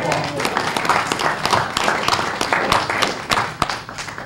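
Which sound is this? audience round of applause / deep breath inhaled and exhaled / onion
audience round of applause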